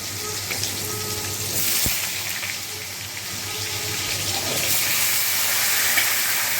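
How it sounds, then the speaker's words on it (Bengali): Potatoes go into hot oil over a lowered gas flame, already seasoned with half a spoon of five-spice, two dried red chilies and a little salt. A steady hiss carries a dull thump near the middle, with no talking. "এবার গ্যাসটা কমিয়ে আমি আলুগুলো ছাড়বো।"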